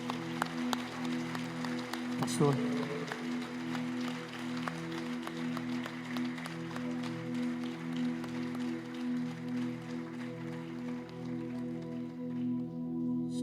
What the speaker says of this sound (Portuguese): Aplauda Jesus com toda a sua força.